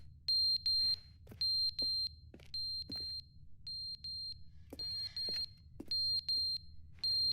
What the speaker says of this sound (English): The smoke detector?